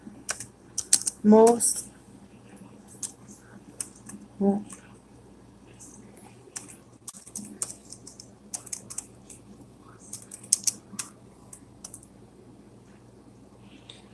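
Computer keyboard typing in scattered bursts of key clicks, fairly close, with brief talk breaking in near the start and a steady low hum underneath.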